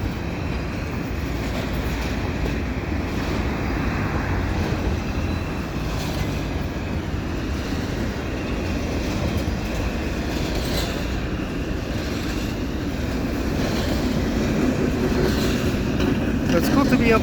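A westbound CP intermodal freight train rolls past with a long, steady rumble and wheel clatter over the rails, continuous and close throughout, with a voice talking over it.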